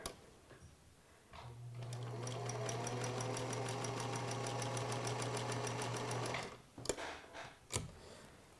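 A sewing machine chain-sews light and dark quilt pieces in one steady, close five-second run of fast mechanical whirring, followed by a few clicks and taps as it stops.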